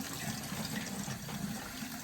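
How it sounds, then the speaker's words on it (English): Tap water runs steadily into a plant pot at a sink, a soft continuous gushing hiss that stays even and fairly quiet throughout, with no voices. "I'm going to fill it up with water"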